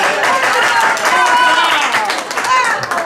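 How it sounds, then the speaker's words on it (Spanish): Audience applause at a community gathering, loud and dense clapping sustained throughout, with voices cheering and talking mixed into the crowd noise. "Un aplauso para..."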